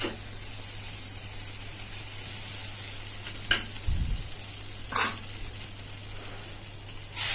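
Bitter gourds frying in oil in a pan with a steady high sizzle, a couple of brief clinks and a short low thump partway through, and no voices.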